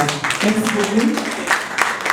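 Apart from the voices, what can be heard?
audience applauding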